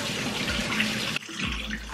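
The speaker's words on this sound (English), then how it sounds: "I'm gonna go ahead and wash this salmon" Tap water streams steadily into a kitchen sink to wash salmon, with a brief break as the flow is interrupted, then a louder splashing rush. Close by, no talking.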